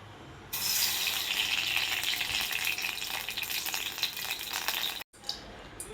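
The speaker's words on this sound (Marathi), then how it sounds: "त्यासाठी मी इथं तूप घालणार आहे बघा कढईमध्ये" Ghee heats in a kadhai before semolina is roasted for gulab jamun, a sudden close sizzle that starts abruptly and holds steady, then cuts out sharply near the end.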